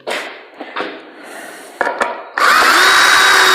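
A power drill drives 3-inch screws into a wood board for a folding sawhorse: a few brief taps and bursts, then a loud, sustained whirring close by.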